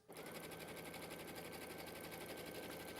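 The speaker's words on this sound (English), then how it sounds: "I'm going to increase the stitch length as well, just a bit, because it's quilting. And away we go." Sewing machine quilting with a slightly longer stitch length, a smooth, quiet, continuous whir that starts abruptly and holds steady, close by with no speech.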